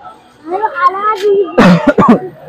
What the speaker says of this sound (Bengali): কাশি হচ্ছে কেন এত?